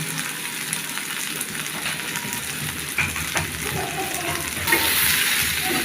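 Green chillies and tomatoes fry in a hot pan with a steady, close sizzle and crackle that swells louder toward the end, with no talking.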